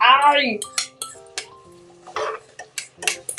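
Squid stir-fried with salted egg in a pan, heard as close metallic clinks and scrapes of a utensil against the pan in short irregular strokes, with a voice speaking over it.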